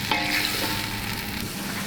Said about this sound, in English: So the butter is now sizzling,